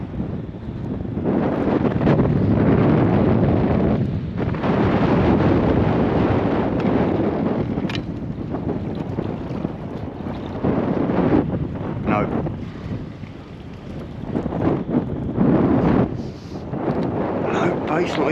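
Gusty wind buffets the microphone on the shore at Town Quay, Southampton, during night fishing, a loud surging roar that rises and eases, with occasional speech underneath.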